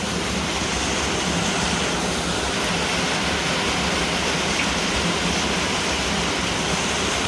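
Floodwater rushing through the streets of Las Piñas City, a dense, constant roar of flowing water close to the microphone, unbroken for the whole stretch.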